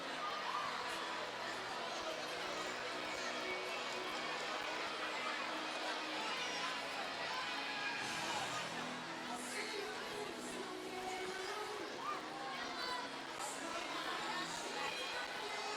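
Steady, dense murmur of a crowd at a Battle of the Middles basketball event, lingering after the action; many indistinct voices blend into an even wash of chatter, moderately loud and continuous throughout.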